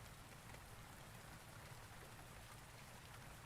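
Steady, dense rain falls throughout in the video game Rainswept, a continuous wash of drops on surfaces with no pauses and no voices over it.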